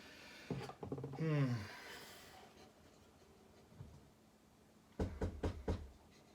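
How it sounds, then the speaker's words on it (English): Knocks on a door at home: a short cluster of firm raps near the end, with a vocal groan and faint rustling heard earlier. "There's a knock at the door."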